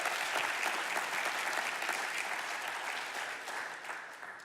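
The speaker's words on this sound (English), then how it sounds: "How about a big round of applause for Crescent Crown?" An audience at a monthly live show gives a sustained round of applause for sponsor Crescent Crown, dense steady clapping from many hands that fades slightly toward the end, with no voices over it.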